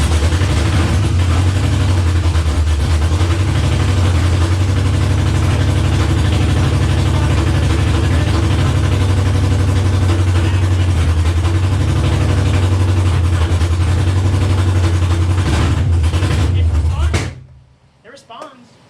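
A car engine being started and left idling after wiring work, its loud steady low rumble running close and continuous before cutting off near the end, followed by a few brief knocks.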